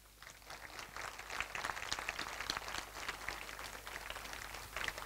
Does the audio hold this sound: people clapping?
yes